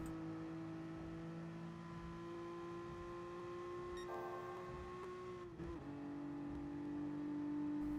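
A race car's engine holds a steady high whine at full throttle on the Tokyo Expressway in Gran Turismo Sport, with a quick gear-change dip partway through before the tone climbs again.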